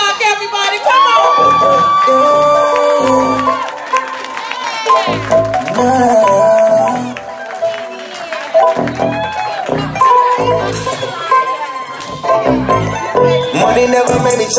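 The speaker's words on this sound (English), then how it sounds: "Stand up and give a round of applause for Jeff Baylock, everybody" A comedy club crowd greets comedian Jeff Baylock with loud cheering, whoops and applause, sustained for many seconds over music and a voice.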